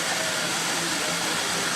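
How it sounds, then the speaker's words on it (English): An electric model pulling tractor in pro stock configuration runs with a steady, dense whine of gear noise, continuous and fairly loud throughout with no pauses. "A little bit of noise from the gears."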